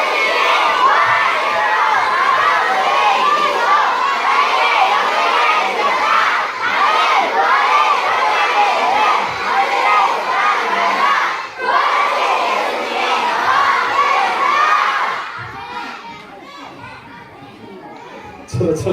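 Children at a church Sunday school service for elementary kids shout together loudly in unison, a sustained crowd of young voices filling nearly the whole span before tapering off near the end.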